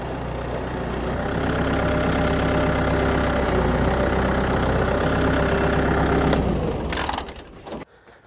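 A tractor engine with a narrow wheelbase runs steadily during a tight turn using a Bi-Speed turning feature, a low, constant drone that breaks up and fades near the end.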